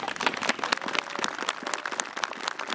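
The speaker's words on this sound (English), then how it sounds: "Can we have a round of applause for that, please?" An audience at a Merrimac veterans memorial dedication ceremony breaks into steady applause, dense overlapping claps sustained at an even level throughout, moderately close with no talk over it.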